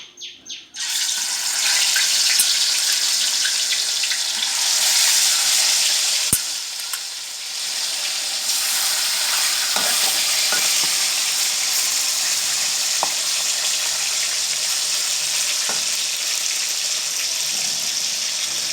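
Pork belly marinated in fish sauce deep-frying in hot oil, a loud, steady sizzle and crackle running throughout, with a few louder pops and spits along the way.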